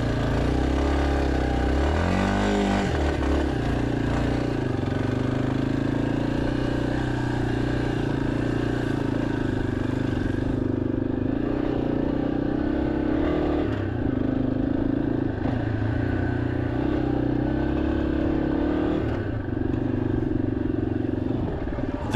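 A Yamaha XT-250 motorcycle rides along a deep sandy trail, its mid-pitched engine droning loudly and steadily close by, with a brief rev change early on.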